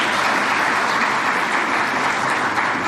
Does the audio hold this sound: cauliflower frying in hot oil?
no